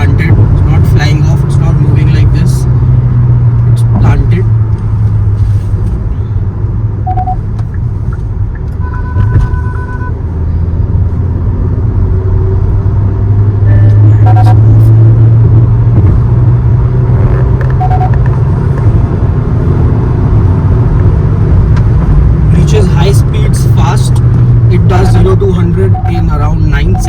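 A 2023 Kia Seltos GTX+ with a 1.5 turbo petrol engine and 7-speed dual-clutch gearbox under full acceleration, a loud steady interior engine and road rumble that builds and holds, with a person talking over it.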